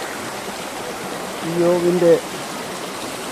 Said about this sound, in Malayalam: മൃഗങ്ങളൊക്കെ വെള്ളം കുടിച്ച ഉറവയാണിത്.